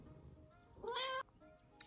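A single cat lets out one clear, drawn-out meow, close and moderately loud, followed by a brief faint squeak in a quiet room.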